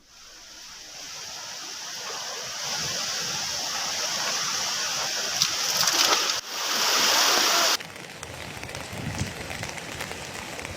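Steady broadband rushing water fills the clip, loud and continuous as the flooded Tunga River surges past above the danger level, with a brief louder burst before settling again.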